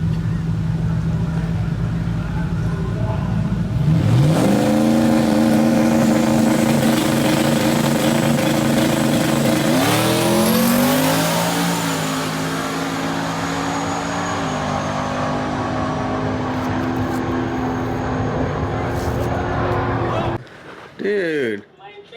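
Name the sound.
turbo Ford Mustang GT drag racing qualifier pass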